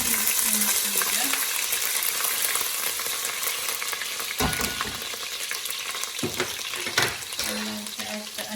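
Garlic and ginger sizzle steadily in a hot pan over lowered heat, a continuous close frying hiss with occasional stirring scrapes and clinks, no talking.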